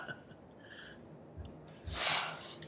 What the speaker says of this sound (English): get something to blow my nose.